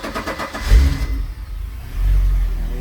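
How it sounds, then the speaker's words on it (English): A Volvo Penta 5.7 GXi engine in a 2005 Crownline 270 boat cranks and fires, then settles into a low, even idle and swells into a rev, close and moderately loud with no talk. "It's a very quiet engine."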